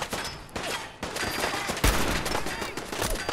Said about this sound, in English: I have a... Hunting rifle here